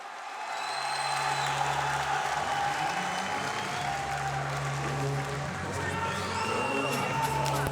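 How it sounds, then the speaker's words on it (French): The crowd at a combat-sports match, likely boxing, applauds at the end of the first round: sustained clapping and cheering fill the hall, mixed with shouts, movement and voices around the ring. "Fin de la première reprise, on les applaudit,"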